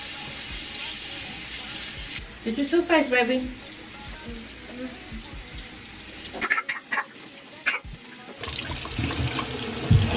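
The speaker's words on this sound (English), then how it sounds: "I gotta turn the water back on" A bathroom tap is turned back on for a toddler washing her face, water running from the faucet in bursts beneath a voice and a child's chatter.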